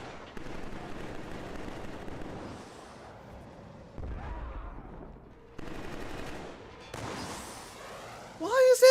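Bursts of automatic gunfire and booming explosions in the video game Killzone 3, snowy Helghast battle, coming in separate rattling volleys with short gaps between them, ending in a sharp sweeping effect, with someone talking over parts of it.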